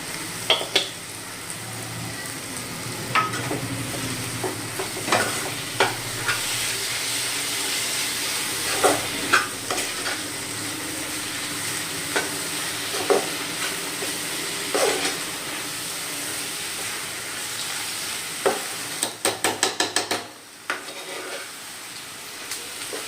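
Black pepper and spices frying in a pan for a roasted-coconut chicken curry, with a steady soft sizzle and repeated scraping, clinking stirs of a spoon against the pan, closer and louder clatter near the end.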